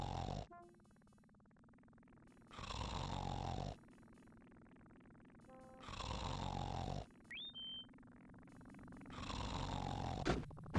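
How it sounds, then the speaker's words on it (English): A drunk man asleep under a newspaper in a Dagger of Amon Ra adventure game snores in slow, regular cycles, each loud rasping inhale followed by a quiet pause, with a brief whistling tone in between. "He snores."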